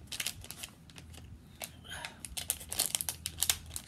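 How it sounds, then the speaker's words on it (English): Crinkly plastic packaging on store-bought decor items being torn and ripped open in quick, close bursts, with brief rustling between pulls. "we're going to have to tear into each one of them,"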